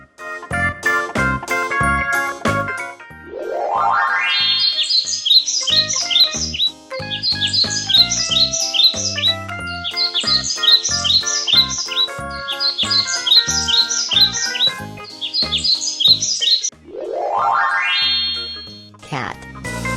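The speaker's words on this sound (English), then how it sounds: "Bird." Bright, repeated bird chirps and tweets in quick bursts, set among playful synthetic boings and plinks and upward sweeps in a lively, cartoonish mix, loud and close.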